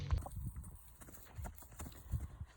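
A quarter horse gelding moves on a lunge line, its hooves landing in faint, soft, rhythmic thuds on the ground. The footfalls are distant and low against quiet background noise.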